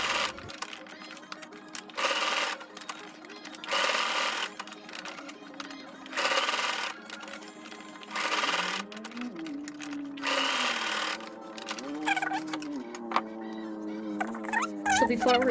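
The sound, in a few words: sewing machine zigzag stitching elastic onto a skirt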